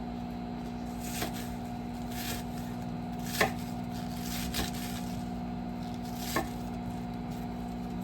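Knife chopping cabbage on a board for sauerkraut, a handful of sparse, separate cuts over a steady low hum, fairly faint and without talk.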